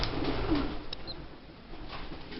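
Pigeons in an aviary coo softly in the background, a few low murmuring calls over faint ambient hiss, fairly quiet and without talk.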